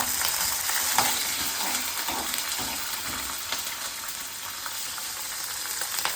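Curry leaves and green chillies fry in hot oil with a steady, close sizzle and crackle that holds at an even level throughout, with no talking.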